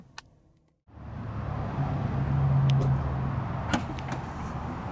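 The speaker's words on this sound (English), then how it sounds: "I'm gonna go ahead and shut down the vehicle" 2018 Audi Q5 with a 2.0 L turbocharged four-cylinder: a short click, a brief silence, then a steady low hum that swells and holds, with a couple of faint mechanical ticks. No voices.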